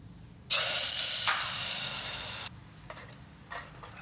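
Mustard seeds sautéed in coconut oil give a sudden loud hissing sizzle that holds for about two seconds and then cuts off, followed by quieter faint clinks.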